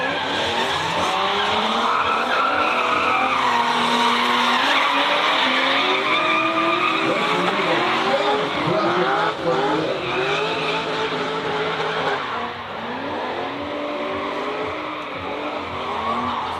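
Drift cars battle in a top-eight tandem run at a drifting competition, engines revving hard while tires squeal in long wavering screeches, loud and continuous, with no talk over it.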